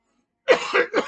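A single close, raspy cough breaks the silence, followed by a second shorter hack.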